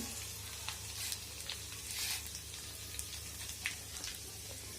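Cumin, curry leaves and garlic sizzling in hot oil in a pan, a steady close crackling hiss with scattered small pops and occasional stirring, fairly quiet and without talk.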